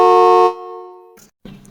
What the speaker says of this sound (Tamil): இப்போது மறுபடியும் ஹாரன் சவுண்டு கேட்குது